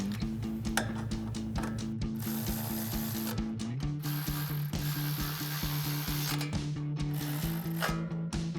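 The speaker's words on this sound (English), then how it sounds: "we can tighten up with our 12mm socket" A ratchet with a 12mm socket tightens a bolt while a Tacoma front leveling kit is installed, making rapid, close, repeated clicking bursts in several runs with short pauses.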